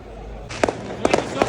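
Several firework bangs go off in quick succession at a football match between Inter and Barcelona, sharp pops over a steady low rumble, heard from a moderate distance.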